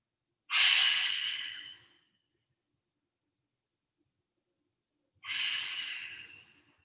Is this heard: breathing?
yes